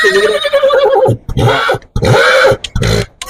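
Loud, close horse whinnies at the Anthiyur Gurunatha Swamy temple horse festival and sale, with several drawn-out neighs broken by short pauses.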